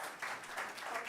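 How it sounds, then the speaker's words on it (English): A room applauds the awardees at an Africa Climate Collaborative fellows and catalyst grants award ceremony, a soft, steady patter of many hands with no voices over it. "one more round of applause for our"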